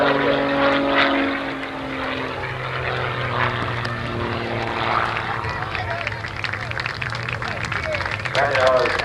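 An Extra aerobatic propeller plane performs at the 1989 Oshkosh airshow, its engine droning steadily with shifting pitch as it maneuvers, while an announcer talks over it and crowd noise mixes in.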